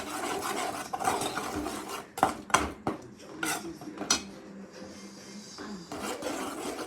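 Gravy being stirred into an onion mixture in a pot for a taro root curry: repeated scraping and clanking of a metal spoon against the pan in uneven strokes, close by, with quieter sizzling between.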